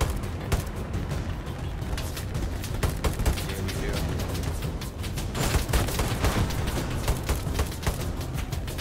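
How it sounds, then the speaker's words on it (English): Dense gunfire in a Hell Let Loose battle, rapid overlapping shots and bursts crackling continuously and loudly throughout, with a voice occasionally under the din. "he's shooting from under."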